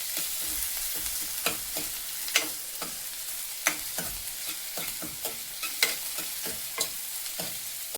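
Onion frying toward a golden colour for egg masala, a steady close sizzle in oil broken by repeated sharp scrapes and clicks of a spoon stirring the pan, with no voices.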